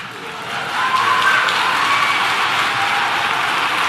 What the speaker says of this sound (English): You're clapping for that?